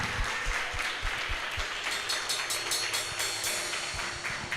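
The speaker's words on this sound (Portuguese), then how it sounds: "Dá umas salvas de palmas para essa palavra" Church congregation applauding at a worship service, a broad, continuous wash of many hands clapping that fills the room at steady volume throughout.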